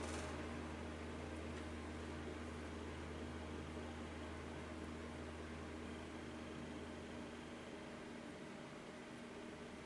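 A low, steady electric hum from a fan heater with a faint whirring drone continues evenly throughout, quiet and constant with no other sounds.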